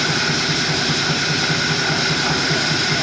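A Cessna Citation II jet engine running at an airfield, a loud, steady whining roar with a low pulsing throb that holds unchanged throughout.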